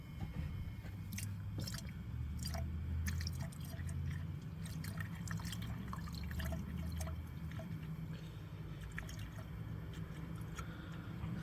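Coolant is poured into a Tesla reservoir, making a faint, steady liquid trickle with scattered drips and gurgles over a low background hum.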